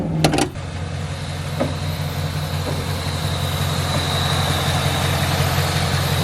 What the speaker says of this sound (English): when he starts it up, it doesn't sound like how it looks. It sounds like a Mustang